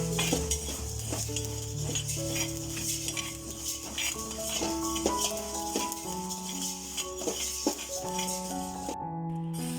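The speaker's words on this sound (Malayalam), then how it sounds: "നല്ലോണം ഇളക്കിക്കൊണ്ട്" A utensil scrapes and stirs rice being roasted in a pan for ari unda, a steady rhythm of knocks and scraping under background music, with a soft sizzle.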